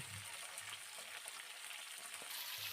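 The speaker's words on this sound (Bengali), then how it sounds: "এবার আলুর সাথে ডাঁটাগুলোকেও এরকম ভাবে একটু সময় ভেজে নিচ্ছি" Potatoes and drumstick pieces fry in oil in a pan, giving a steady, soft sizzle with faint stirring clinks throughout.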